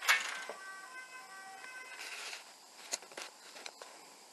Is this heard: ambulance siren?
yes